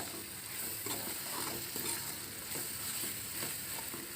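Masala paste for fish gravy fries in a pan with a continuous crackling sizzle, punctuated by rhythmic scraping strokes of a spoon stirring it.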